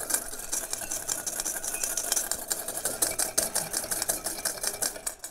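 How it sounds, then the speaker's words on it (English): Rapid, steady whisking of olive oil and vinegar into an emulsion in a dish, a dense run of quick metallic clicks and scrapes with no talk. "Then you're going to start whisking."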